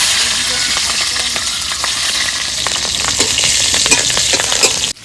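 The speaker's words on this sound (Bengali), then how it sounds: "তেল দিয়ে দিচ্ছি একটা শুকনো লঙ্কা পাঁচফোড়ন কাঁচা লঙ্কা" Dry chili, panch phoron and green chili sizzle and crackle steadily in hot oil in a home kitchen, a loud continuous fry with small pops, cut off abruptly at the end.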